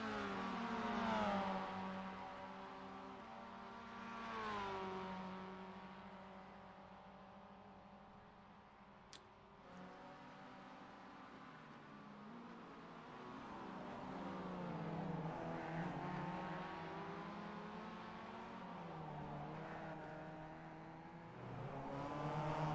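Mazda race cars in iRacing scream down a long front straight at Long Beach, engines droning loud and steady with rising and falling pitch as they run in the draft, no talk over it.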